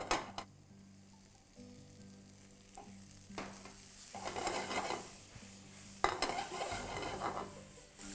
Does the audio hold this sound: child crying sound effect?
no